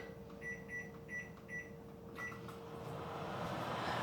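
A microwave oven hums steadily while a string of short keypad beeps sounds setting 2 minutes at power level 7, followed by a louder whirring as it starts running.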